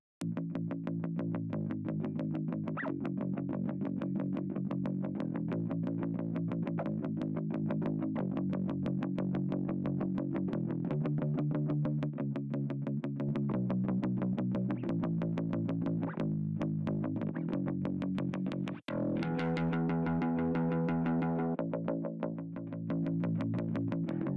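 A bass guitar played through overdrive, gritty and distorted, with a steady line of sustained notes and a brief break near the end.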